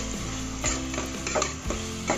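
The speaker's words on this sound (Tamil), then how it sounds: "பாருங்கள் நான் நல்லா வதக்கி எடுத்துக்கிறேன்." Tomatoes being sautéed and stirred in a pan for a Tamil-style crab masala, a steady sizzle of frying with repeated scraping stirs throughout, close and continuous, no talking.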